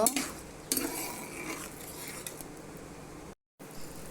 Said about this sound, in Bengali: পানি দিয়ে লাড়া দিব।